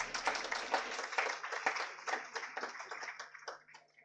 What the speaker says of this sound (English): let's celebrate this moment with a loud round of applause